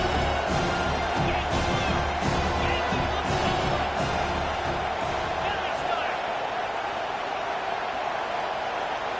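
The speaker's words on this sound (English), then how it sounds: "3rd down, and the crowd really getting into it" Large football stadium crowd roaring during a third-down play in a Texas vs UTSA championship game, a dense continuous wash of cheering and noise with some rhythmic thumping early on, loud and steady throughout.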